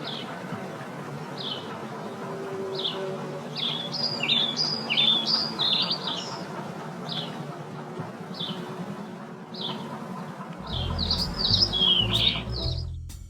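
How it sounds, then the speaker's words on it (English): Slowed bird chirps at three-quarter speed: short, evenly spaced tweets repeat over a soft background, growing into a busier cluster of overlapping calls midway and again near the end. "For those of you who thought those sounds of birds too brief, here is the same audio again, slowed to 3/4 speed"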